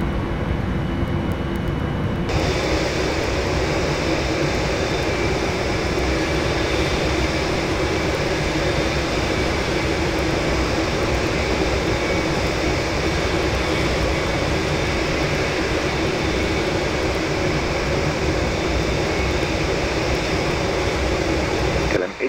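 Airliner engines spool up for takeoff in the Prepar3D flight simulator, with a steady, loud, broadband roar that starts abruptly and holds unchanged for about twenty seconds.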